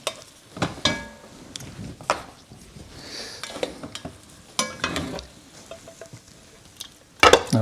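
Shrimp sizzles with butter in a skillet, a soft steady fry under repeated spoon scrapes and clinks against the pan, growing louder with a sharp metallic rattle at the end.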